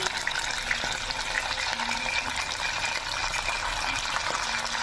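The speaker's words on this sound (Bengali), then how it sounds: "দিয়ে আমি ভেজে নিচ্ছি আলুগুলো, লাল করে ভেজে নেবো," Potato pieces seasoned with salt and turmeric fry in a pan for aloo do pyaza, giving a steady, close, broadband sizzle throughout with no talking.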